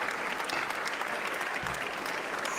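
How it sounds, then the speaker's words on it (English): A House chamber crowd breaks into dense, continuous applause mixed with cheering, loud and steady throughout with no pauses. "Cheers and applause."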